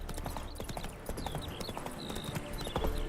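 Roach the horse's hooves clip-clop in The Witcher 3 video game, a steady rhythmic stream of close hoof strikes over a faint ambient bed, with whistling tones in the background.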